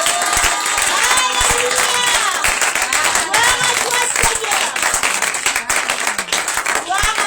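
A French-speaking church congregation at a Sunday service claps and cheers loudly, with rhythmic hand claps, whoops and voices rising over the crowd noise close by.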